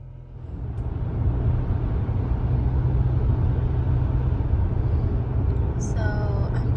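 A car is heard from inside while driving, a steady, loud low rumble of road and engine noise with a faint chime near the end.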